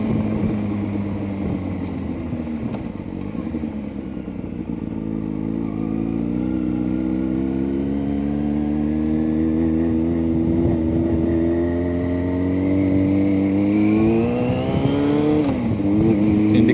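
A car drives through a roundabout with the engine humming steadily at close range, the pitch slowly rising and falling through the turn with no talking.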